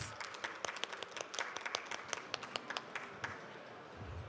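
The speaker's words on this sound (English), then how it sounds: "may we have a big round of applause for Miss Kitty and her panelists." Scattered applause from a conference audience welcoming a panel on finance security, sparse distinct claps in quick succession, fairly faint and thinning out toward the end.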